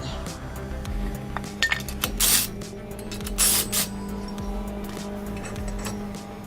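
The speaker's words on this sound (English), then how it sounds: "wash those nasty wheels and tires on the inside" Inside of a Ford Raptor truck's wheels and tires being spray washed, with two short, loud bursts of hissing spray over a low, steady background hum and a few light metallic clinks.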